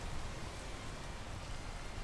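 In a video game, rain falls in a steady, dense hiss with no distinct drops, soft and even throughout, and no one speaks.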